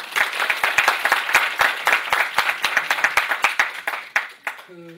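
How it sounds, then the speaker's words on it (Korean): Lively clapping from a group at an academic forum, sharp individual claps forming applause that thins out toward the end, with a voice briefly heard at the close. "박수 보내주십시오."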